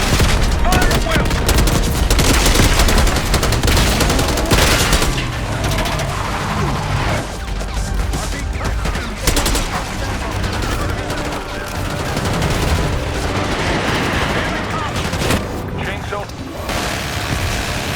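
Loud, sustained gunfire in Call of Duty Black Ops 6 during an assault on Saddam's palace in Iraq, 1991: dense rapid automatic bursts and shots layered over heavy battle noise, continuous throughout.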